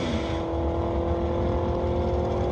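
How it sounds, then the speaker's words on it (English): Camaro drag racing down a quarter mile strip at an ET finals event, a loud sustained engine roar heard from a distance with a steady, unbroken drone. "Gonna go to the quarter mile."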